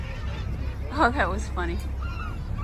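Seabirds call from a rock on Gull Island, a few honking, goose-like cries in a short burst over a low steady rumble, with a person speaking briefly.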